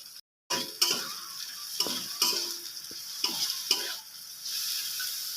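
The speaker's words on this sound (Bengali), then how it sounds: "আবারও সব কিছু ভালো করে ভেজে নেব।" Carrot, beans and chopped capsicum stir-fried in a pan, a moderate sizzle punctuated by a series of spatula scrapes and clacks at a loose, regular pace.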